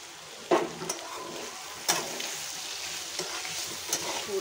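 Spicy pumpkin curry being stirred in a pot, with a few sharp spoon scrapes and knocks against the metal over a steady low sizzle of the cooking vegetables.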